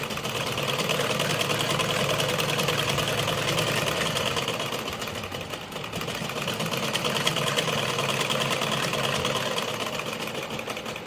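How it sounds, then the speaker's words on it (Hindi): A sewing machine runs nonstop as it stitches along the folded edge of a blouse, a close, steady whirring buzz that eases off briefly in the middle and then picks up again, with no voices. "मैं एक सिलाई यहाँ लगाऊंगी ऊपर, इसको फोल्ड करके"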